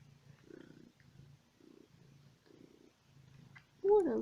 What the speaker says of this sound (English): What a little purr bucket, aren't you?